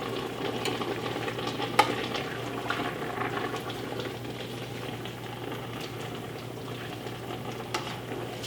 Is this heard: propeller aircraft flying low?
no